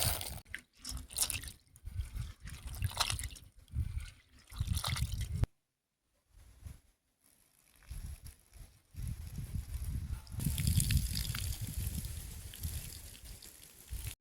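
Water pours and trickles over toor dal set to soak in a home village kitchen, close and steady in bursts, with a short quiet pause partway through and a wetter, fuller stream toward the end.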